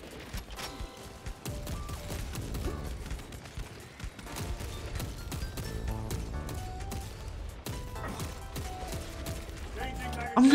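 Dense, continuous gunfire rattles through a Space Marine 2 firefight, with rapid bursts and crashing impacts layered over one another at steady loudness, swelling sharply at the very end.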